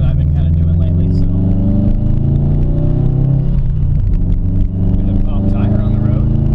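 A Subaru STI accelerates with a loud, close engine drone and heavy road roar that fill the cabin continuously, the pitch shifting slightly as it pulls.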